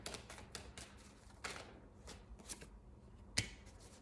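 Tarot cards being shuffled by hand in soft, irregular riffling bursts with a few sharper snaps, one distinct crisp slap near the end, all quiet and close with no talking.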